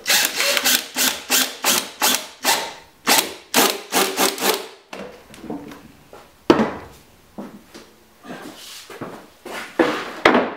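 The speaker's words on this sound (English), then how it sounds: "I'm using a screw gun for this, and I've set my clutch so I don't over tighten the screw." A screw gun with its clutch set drives screws to attach coping to the side of a wooden snowboard box, giving a series of loud, rhythmic whirring bursts with ratcheting clutch clicks, close up and without talk.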